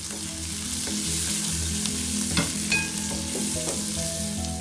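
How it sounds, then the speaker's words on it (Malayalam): Onions and green chilies sautéing in a pan, a steady close sizzle with occasional stirring clinks and scrapes, no voices. "നമ്മുടെ ഉള്ളിയും പച്ചമുളകും നല്ല വഴണ്ട് വന്നിട്ടുണ്ട്"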